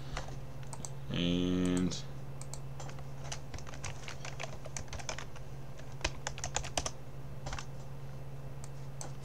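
Typing on a computer keyboard to sign in: scattered clicky keystrokes in irregular bursts over a low steady hum, with a brief loud buzzing tone early on and a single spoken word.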